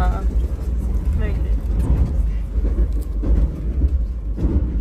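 Low, constant rumble of a metro train carriage in motion, with voices murmuring over the rolling noise.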